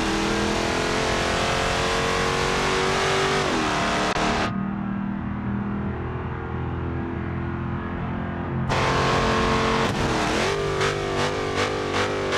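A Dodge Challenger engine in the BeamNG Drive game revs loud and close, dips to a quieter low rumble for a few seconds, then roars back with rising revs.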